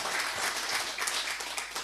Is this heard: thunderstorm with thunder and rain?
no